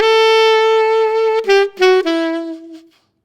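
Solo saxophone playing a melody, held notes with a grace note flicking into a higher tone before stepping down, close and clear, the last note fading into silence.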